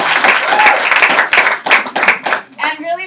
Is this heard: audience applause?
yes